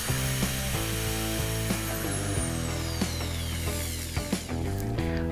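Sturm ID21580K compact drill running: a strong, steady motor whine with sharp rising and falling pitch sweeps as the trigger changes speed, close and loud, with brief clicks and no talking.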